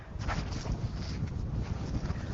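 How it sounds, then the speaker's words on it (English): Low rumbling wind buffets the microphone continuously on a volcano boardwalk at Maungawhau Mount Eden, Auckland, with uneven gusts and no voices. "A little bit windy, so I hope the wind noise isn't disturbing."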